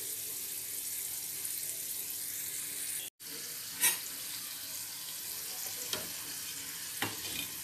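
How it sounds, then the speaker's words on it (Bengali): Fish roe fritters fry in oil over a raised flame, giving a steady close sizzle with a brief cut partway through and a few sharper crackles and clinks afterward; no one speaks. "দুদিক ভাজা ভালো করে হয়ে গেলে তারপর ফ্লেমটাকে আর একটু জোর দিয়ে আমি এগুলোকে ভালো করে ভেজে,"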